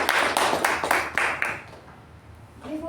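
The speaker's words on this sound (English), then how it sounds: "Let's have a huge round of applause for him." A brief burst of meeting applause for a speaker after an evaluation, rapid clapping for about a second and a half before fading into quiet room sound.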